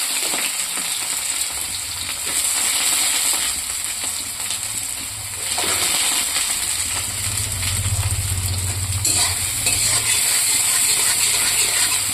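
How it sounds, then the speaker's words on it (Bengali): Soybean chunks fry with onions in hot oil, giving a steady, loud sizzle and hiss that runs the whole time, with occasional stirring scrapes and no talking. "পেঁয়াজের সাথে সোয়াবিনটা দিয়ে দেবো"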